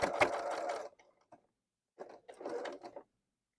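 A sewing machine stitches a quilt top in two bursts of steady whirring mechanical chatter, separated by a short silent pause, with light handling clicks in between.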